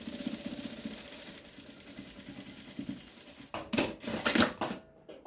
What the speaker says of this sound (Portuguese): Vou vir aqui na minha máquina e vou passar uma costura reta aqui em cima